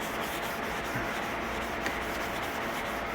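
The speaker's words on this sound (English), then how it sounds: "sanding sponge. Just kind of wipe it down to knock all the high stuff off" Steady, continuous rubbing of a sanding sponge against an axe head, a dense close scratchy hiss with faint rhythmic strokes.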